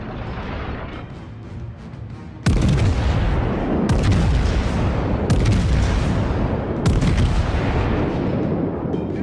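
Heavy naval guns fire in World of Warships, four loud booming salvos spaced roughly a second and a half apart, each rolling into a long rumbling decay over background battle noise.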